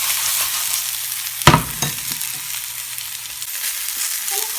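Shrimp fry in a pan with a steady, moderate sizzle. A sharp clatter near the start sounds like utensil or pan contact, followed by a couple of softer knocks, and no one speaks.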